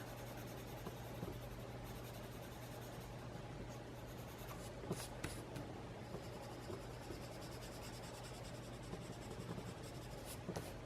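A marker scratches and rubs steadily across paper while coloring, close and quiet, with faint soft strokes and no voices.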